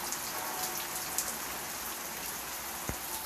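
Steady rain falling outdoors as a continuous broadband hiss, with a few louder drop impacts and a brief low thump near the end; no talking.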